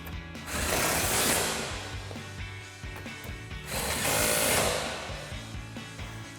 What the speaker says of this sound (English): last we just have to tighten our 2 15mm bolts behind our license plate